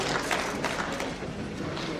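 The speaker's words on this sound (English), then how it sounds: "Please, a round of applause for him" A crowd at a sector-wide engagement and performance dialogue session claps steadily as a round of applause for a speaker, dense and even throughout.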